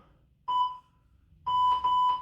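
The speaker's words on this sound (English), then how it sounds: "Wait for the beeps, here they come." Electronic beeps at a steady pitch: one single beep, a pause, then a longer burst of three quick beeps in a row, clear and fairly loud.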